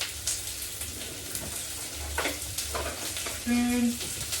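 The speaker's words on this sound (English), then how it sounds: "Something about sauteing onions" A soft, steady sizzle of onions sautéing in a pan, with faint stirring scrapes and a short electronic beep near the end.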